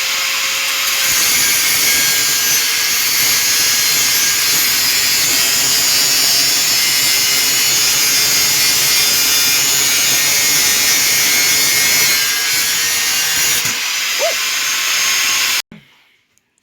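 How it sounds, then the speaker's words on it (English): A power tool grinds and buzzes continuously through wood for about fifteen seconds, loud and close, then cuts off abruptly into near silence. "we had to resort to power tools as you could see"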